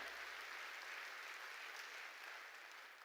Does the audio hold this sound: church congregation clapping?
yes